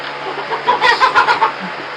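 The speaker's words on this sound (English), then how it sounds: "These are the chickens that think they're goats." Chickens cluck in a short burst of close, rhythmic clucks over a low steady background hum.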